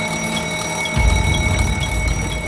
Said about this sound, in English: an alarm activates inside the driver's cab